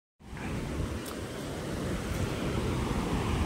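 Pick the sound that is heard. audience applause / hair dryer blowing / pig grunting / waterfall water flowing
waterfall water flowing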